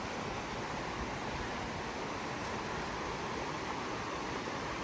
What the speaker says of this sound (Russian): Такая красивая река.